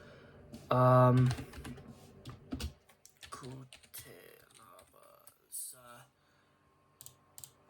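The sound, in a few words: typing on a PC keyboard to look something up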